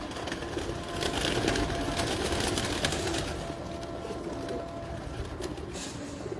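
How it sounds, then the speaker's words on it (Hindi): Pigeons in a loft in Multan cooing, soft repeated throaty coos from several birds at close range, fairly quiet against background noise. "तिखे परों के कबूतर हैं बड़े"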